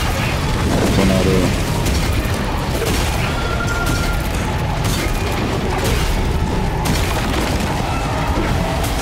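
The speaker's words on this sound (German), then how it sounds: "Granate." A grenade explodes amid combat in the video game Atlas Fallen: Reign of Sand, one burst within a dense, loud stretch of booms, cracks and splintering debris that runs nonstop, with no single clear blast standing out.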